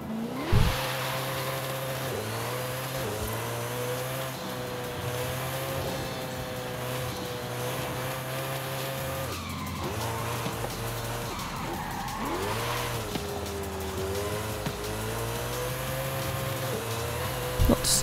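Gift car driven along a highway in the Forza Horizon 5 video game, its engine note droning and shifting steadily through gears for the whole stretch, with faint tire noise and a few pitch dips.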